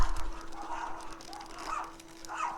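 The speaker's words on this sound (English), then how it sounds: "excuse these dogs, hey, knock it off." Dogs bark in the background during a gas mask unboxing, a few bursts of barking around a second apart, moderately loud and not far off, with no talk over them.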